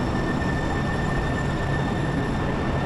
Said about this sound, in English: one of those was certainly my train